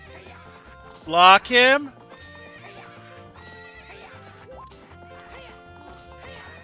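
Epona the horse gives a loud, shrill whinny in The Legend of Zelda: Ocarina of Time on the N64, one neigh of about a second over steady game music, with a player speaking briefly.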